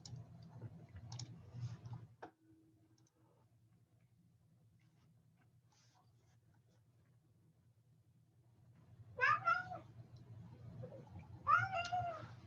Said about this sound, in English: Why are you meowing at me?